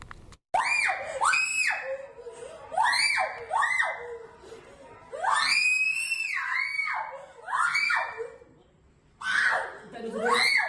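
A schoolgirl living in an orphanage in Padang, West Sumatra, screams hysterically on a rooftop some 15 metres up: a series of long, high, wavering wails with short gaps, loud and raw, mixed with a few laugh-like cries.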